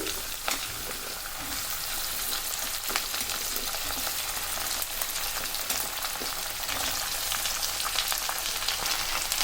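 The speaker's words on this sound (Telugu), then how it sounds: "ఇందులోకి ఉల్లిగడ్డ ఆలుగడ్డ ముక్కలు వేసుకోండి" Onion and potato pieces fry in a pan for aloo capsicum curry, producing a dense, steady sizzle and crackle throughout with faint stirring scrapes.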